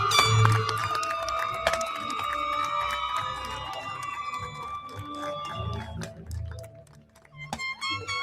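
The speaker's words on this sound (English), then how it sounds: "Let's give a round of applause for the seniors." Crowd at a high school graduation ceremony claps and cheers for the seniors, a dense, steady wash of applause with shouts that thins toward the end.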